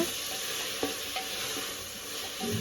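Finely chopped tomatoes frying in a pan for vegetable pulao, a steady close sizzle with a few soft stirring taps and scrapes.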